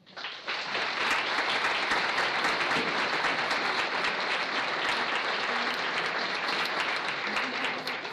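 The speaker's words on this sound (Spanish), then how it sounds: "Pido un aplauso, por favor." Sustained audience applause fills a cultural hall during a poetry and music event, a dense, steady wash of many hands clapping at full level for the whole stretch without fading.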